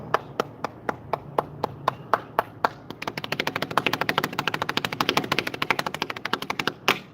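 A small group's applause: a few slow, spaced single claps that build into quicker, denser clapping, heard close with little else around it.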